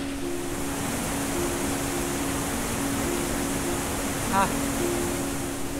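Icy glacier-fed stream at Malana village in the Kullu valley, rushing in a dense, steady, even roar with no breaks, close and loud, with a faint short whistle-like tone near the end.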